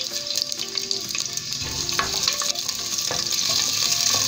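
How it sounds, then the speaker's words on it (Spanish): Onion fries in vegetable oil in a pan, a dense, continuous sizzle with small crackles and occasional stirring clicks, close and steady throughout. "Y vamos a poner ahí nuestra cebolla. Esperamos que dore nuestra cebollita."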